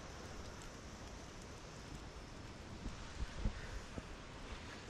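Steady, soft rain falls in thick fog on the Netravati trek near Chikmagalur, a continuous even hiss with a few faint drips and no voices.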